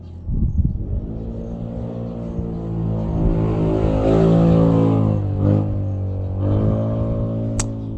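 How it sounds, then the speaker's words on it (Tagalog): Motorcycle engines: one rumbles close by and swells as it passes, its pitch rising and falling, with a second motorcycle following near the end. "Ingay ng mga motorsiklo dito dumaan guys."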